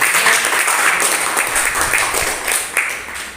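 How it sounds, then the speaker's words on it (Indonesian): A group at an indoor gathering claps together after an ice-breaking game, a brisk, moderately loud patter of many hands that fades slightly toward the end. "ada berarti tepuk tangan dulu semuanya"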